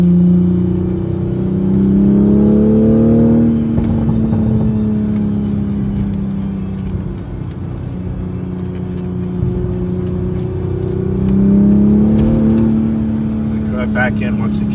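A 2020 Toyota Supra's engine and active exhaust rise and fall through upshifts and downshifts, heard from inside the car as a droning hum that swells twice, with someone talking over it.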